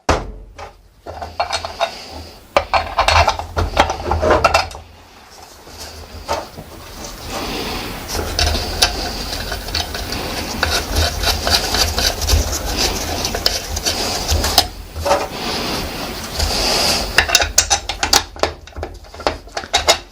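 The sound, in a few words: tightening bolts on a Vespa Large gearbox casing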